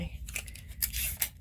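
A strip of craft tape is pulled off the roll and torn in a few quick, close rasping bursts during a crafting session, faint and brief.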